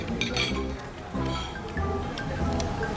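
Glasses clink a few times in a toast over a meal of slow-braised lamb balsamic adobo, bright short chimes heard against a steady background hum and some faint voices.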